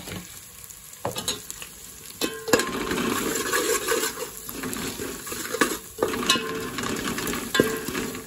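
Chicken frying in a pan with turmeric and coriander powder, a steady close sizzle broken by scraping stirs and occasional clinks of a utensil against the pan.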